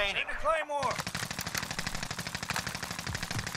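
Rapid automatic gunfire in Call of Duty Warzone rattles in a steady, fast stream of close shots, opening with a brief voice before the shooting takes over and carries on without a break.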